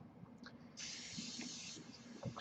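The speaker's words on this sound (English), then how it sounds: "hose down the slide and the frame" Cleaner sprays onto the slide and frame of a pistol as a single soft, steady hiss lasting about a second, faint and close, with light handling noises around it.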